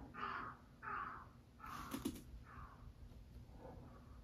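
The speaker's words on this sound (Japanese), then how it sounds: "いじられたな、カラスに。" A crow caws outdoors, several harsh calls in a short irregular series of about four to five caws, fairly clear and moderately near with no talking over them.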